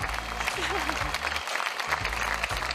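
A studio audience applauds in a steady wash of clapping, with music and voices heard underneath.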